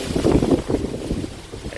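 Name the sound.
strong wind blowing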